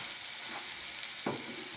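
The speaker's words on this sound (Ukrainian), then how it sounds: "Додаємо до наших зморшок сметану і продовжуємо смажити ще 5 хвилин." Zmorshky (dried mushrooms) frying with sour cream in a pan, a steady soft sizzle throughout with a brief stir or scrape near the end, close and alone.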